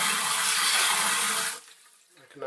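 Water rushes steadily from a Torbeck toilet fill valve for about a second and a half, then cuts off abruptly, leaving near silence with faint handling sounds.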